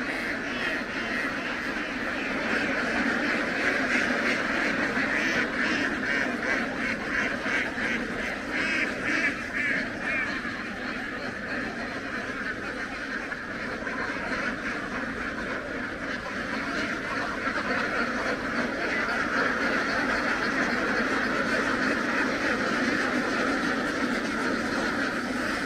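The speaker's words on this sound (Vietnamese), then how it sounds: "Tám ngàn mấy con vịt." A large flock of several thousand ducks quacks and honks in a rice field in the Mekong Delta, a dense, continuous chorus of overlapping calls that stays steady and loud throughout.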